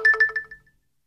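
A phone's text message alert chimes close and clear, a quick run of four or five bright tonal beeps over about half a second that fades out into silence.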